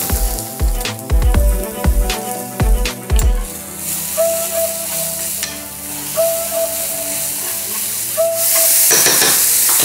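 Potatoes and zucchini hit hot olive oil in a pan, with a few loud clunks and stirring scrapes at first, then a steady close sizzle that builds into a stronger hiss toward the end.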